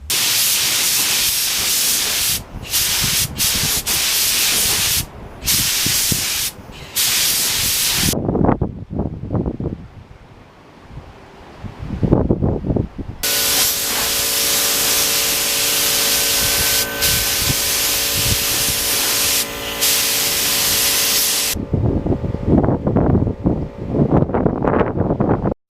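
Spray can paint hissing in long continuous bursts onto motorcycle parts, applied in coats during a Yamaha FZR restoration, loud and close with brief pauses between passes and a short gap near the middle.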